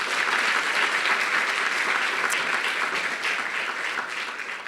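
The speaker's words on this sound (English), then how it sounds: "So how about a round of applause for everyone who's been up?" A round of applause from the audience at a conference on skills-based hiring, many hands clapping in a dense, even wash that fades a little near the end.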